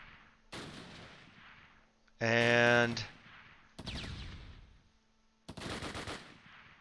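Gunfire rattles in the Close Combat Last Stand Arnhem wargame, with scattered sharp shots and a loud machine-gun burst in the middle, under short bursts of a man's speech.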